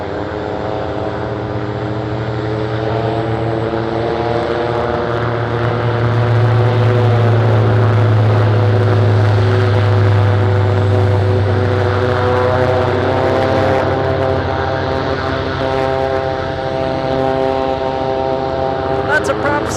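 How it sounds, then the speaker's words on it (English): Propeller aircraft at Anchorage airport drone loudly and steadily, a sustained low hum with layered engine tones, while a person talks over it. "Lots of prop sounds."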